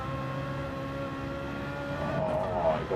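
A BMW GT3-class race car, likely an M4 or M3, laps the Nürburgring Nordschleife in a racing video game, its engine humming steadily with tonal harmonics and swelling into a louder, rising rev near the end, alone without talk.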